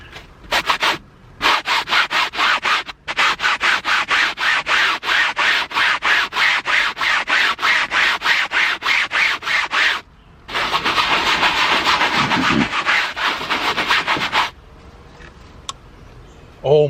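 A Scrub Daddy sponge scrubs dirty car seat upholstery in fast, rhythmic back-and-forth strokes, loud and close, pausing briefly before a longer stretch of continuous rubbing.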